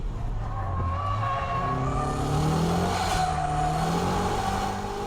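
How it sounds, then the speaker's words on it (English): A car engine revs hard in third gear as the driver kicks the throttle for a shift-lock drift, its pitch climbing and sweeping steadily with faint tire noise, loud and continuous throughout. "Kick the gas all the way in third gear."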